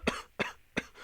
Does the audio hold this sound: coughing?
yes